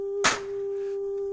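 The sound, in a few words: smacking a 10-pound 8-track player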